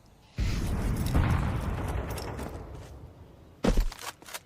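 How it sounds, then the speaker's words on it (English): An HE grenade detonates in a Counter-Strike match, a loud low boom that rumbles on for about three seconds before a second sharp burst near the end, with no voices. "your hero Galil has just eaten a HE grenade"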